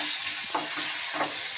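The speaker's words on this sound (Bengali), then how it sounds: "আর সামান্য নুন দিয়ে ভেজে নেব" Fish frying with a little salt in a pan, a steady close hiss of oil sizzling with two soft stirring scrapes rising briefly out of it.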